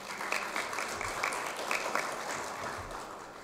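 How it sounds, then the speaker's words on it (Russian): Audience applause breaks out at a government economic report, a dense, steady patter of many hands clapping at moderate volume with no voices over it. "тут аплодисменты не помешают."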